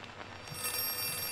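Telephone ringing in Outlast 2, a brief steady metallic ring sustained over a low background hum, moderately loud with no speech.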